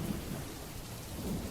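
Steady rain taps against windows in a soft, continuous wash, with low, faint rumbles of thunder underneath and no other sounds.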